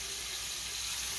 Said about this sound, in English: And you want to hear plenty of sizzle. So that's why, again, I have my heat pretty high.